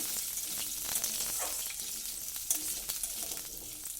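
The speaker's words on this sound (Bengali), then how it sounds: "এবার আমি ওর মধ্যে আলুটা দিয়ে দিলাম আলুটাকে দিয়ে তেলের মধ্যে একটু নাড়াচাড়া করে নেব" Potato pieces fry in hot oil with five-spice tempering and a bay leaf as they are stirred, a dense continuous sizzle broken by light scraping strokes throughout.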